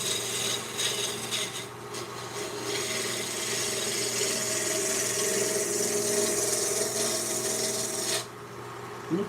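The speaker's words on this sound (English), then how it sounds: "I'm just using a small spindle gouge here" Olive wood spindle turning on a lathe with a small spindle gouge, making a steady raspy scraping hiss over the motor's constant hum, close and continuous, ending as the cut stops.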